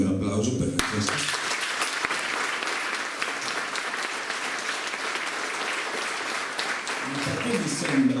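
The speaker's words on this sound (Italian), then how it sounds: "Il primo è per te, e chiedo anche un applauso per Francesca." Audience at a political list presentation breaking into sustained, dense applause that fills the room, with a voice speaking briefly at the start and again as the clapping ends.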